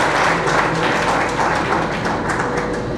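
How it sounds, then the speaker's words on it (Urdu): A church congregation at a Feast of St. Francis of Assisi service in Lahore breaks into loud applause, with a dense, steady wash of clapping that fills the space throughout. "زوردار تالیاں"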